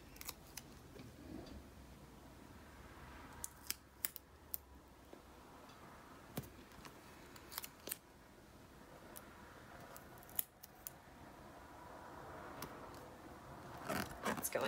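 Scissors snip through a pink paper box in a series of short, crisp cuts spread across the clip, fairly quiet and close, with faint background noise between the snips.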